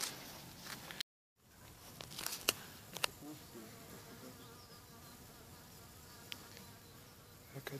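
A single bee buzzes near a beehive outdoors, a faint continuous drone with scattered crackles and small knocks and no talk, the hum running steadily throughout.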